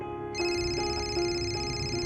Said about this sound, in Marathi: फोन वाजतोय का तुझा?